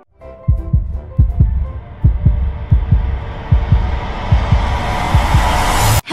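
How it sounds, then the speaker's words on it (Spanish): Heartbeats thud steadily from behind a door, in evenly spaced, bass-heavy paired beats, while a hiss rises underneath and swells to a loud wash by the end. "es interrumpida por latidos de corazón audibles al otro lado de la puerta"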